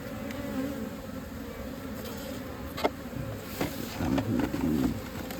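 Steady, close buzzing of many bees, with occasional louder passes and faint clinks in the background.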